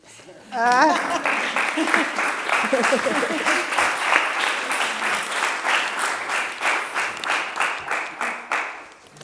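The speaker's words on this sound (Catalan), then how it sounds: "Un aplaudiment." Applause from a live audience on a talk show breaks out right after a voice and keeps going in a dense, loud burst of clapping that thins into a rhythmic, fading pattern.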